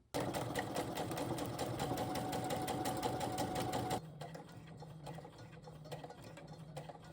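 A sewing machine runs steadily, stitching fabric a quarter inch from the edge while sewing a boxy bag. The dense rhythmic needle chatter stays loud and close for about four seconds, then stops, leaving a quieter low hum and small mechanical clicks.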